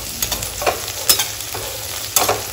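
Coriander and mint sautéing in hot oil for a chicken biryani: a continuous soft sizzle broken by several sharp scraping stirs of a spatula against the pan, close and fairly loud, with no voices.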